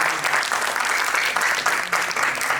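Steady, loud applause from an audience, sustained clapping throughout with no break.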